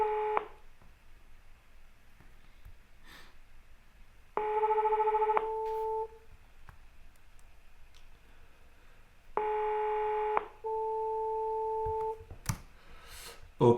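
A phone call that goes unanswered: the outgoing ringback tone sounds in three separate bursts, each a steady electronic tone, separated by quiet gaps with faint clicks and no speech.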